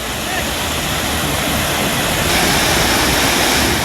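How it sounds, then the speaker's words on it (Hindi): Swollen Hasdeo River water pours over an anicut weir in Chhattisgarh during flooding, a loud continuous rushing roar without a break. "हसदेव नदी का जलस्तर काफी बढ़ गया और पानी एनीकट के ऊपर से बहने लगा"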